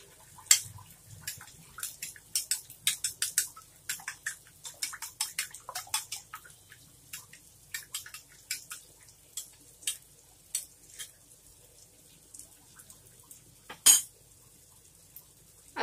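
A utensil beats a spiced mixture in a bowl for a quick home-cooked dish, giving rapid clinking strokes in irregular bursts that thin out toward the end, with one sharper knock near the close.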